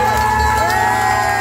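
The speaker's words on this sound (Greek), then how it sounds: "Χειροκρότημα, ρε παιδιά," A live crowd at a stage show at Frange cheers and whoops loudly and continuously, with shouting voices blended into a dense, sustained roar.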